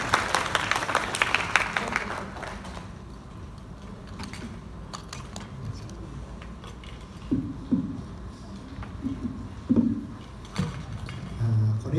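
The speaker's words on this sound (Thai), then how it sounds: "ขอเสียงปรบมือต้อนรับศิลปินผู้สร้างส รรค์ผลงานนะครับคุณเรืองศักดิ์อนุวัฒน์วิมลครับ" An audience applauds to welcome an artist onto the stage at a panel discussion on fine dust pollution; dense clapping fills the first two seconds, then fades into quiet room noise with a few scattered knocks and faint murmurs.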